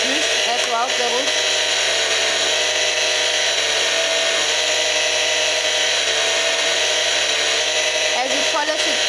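Jewellery piece pressed against a spinning polishing machine wheel, a constant loud motor whine and grinding hum running throughout, close up, with a voice speaking over it.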